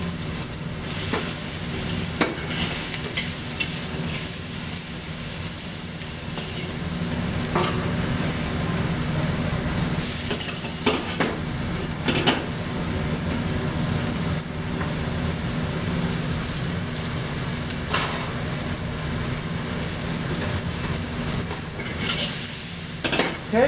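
Vegetables stir-fried with pork, browned onion and ginger for Cantonese chow mein, sizzling steadily in a hot pan with intermittent scrapes and stirring clatter, close and continuous with no talking.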